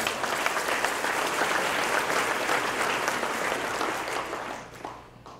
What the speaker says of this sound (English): So let's give Addison and his wife a big round of applause